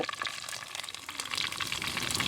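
Cumin, curry leaves and crushed garlic fry in hot oil, giving a brief, close, steady sizzle and crackle with no voices.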